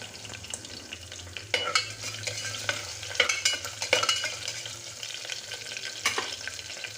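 Chopped ginger, garlic and slit green chillies frying in a pan for spinach khichdi, a close sizzle broken by irregular scraping stirs and clatters of a spatula, no voices.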